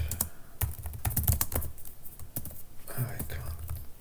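Fast, close clatter of computer keyboard typing while coding, dense irregular key strikes with a few louder thumps, over faint room noise and a soft murmur.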